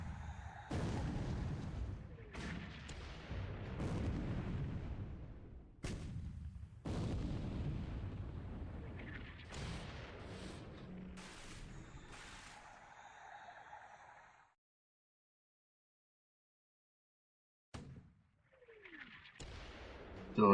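Naval shellfire strikes ships in the War in the Pacific strategy video game, with repeated booming blasts and explosions that run on for several seconds, then a stretch of silence and a few more bursts at the end.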